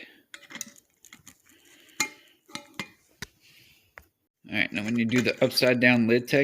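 A jar lid on a jar of wild bird seed being turned on and off, heard as a series of sharp clicks and scrapes with short pauses, followed by a person talking for the final seconds.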